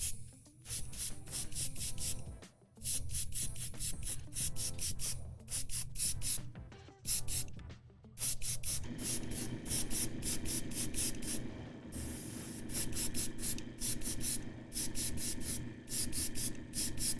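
Short bursts of spray paint lay down a solid khaki base coat, close hissing sprays broken by brief pauses early on, then longer continuous hissing passes, fairly quiet with no talking.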